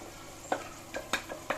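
Chicken curry cooking in a pan with blended tomato juice, giving a low steady sizzle broken by four or five brief stirring scrapes, close and quiet.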